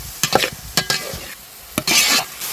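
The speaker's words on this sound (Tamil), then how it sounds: "வெங்காயம் தக்காளி இந்த அளவுக்கு வதங்கினா போதும்" Chopped onions and tomatoes sizzle in hot oil for a goat head semi gravy, with sharp scraping strokes of a spoon stirring the sauté at close range; no talk.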